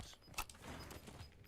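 Magazine swap during a reload in Call of Duty Warzone: a quick mechanical click-clack with a sharp metallic snap near the middle, close and fairly quiet, no talking.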